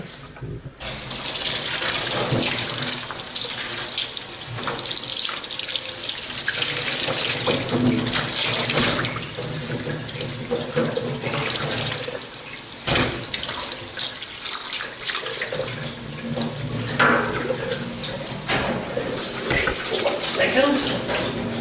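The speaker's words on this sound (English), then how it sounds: "So we'll quickly wash the fish." Tap water runs steadily into a sink while a salmon and a bloodied cutting board are washed, a continuous close gushing stream with occasional splashes and clatter.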